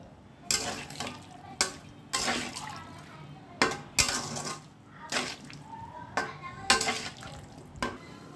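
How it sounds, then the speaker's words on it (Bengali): Water goes into a pot of half-boiled taro and meat in a series of splashing, sloshing bursts roughly every second, close and fairly loud, with quieter liquid bubbling between them. "আমি এটা একটু সেদ্ধ হইতে জল দিয়ে দেবো।"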